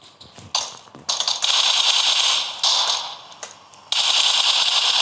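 Rapid gunfire from a shooter video game, loud bursts of repeated shots in several long runs separated by brief gaps, with no talk over it.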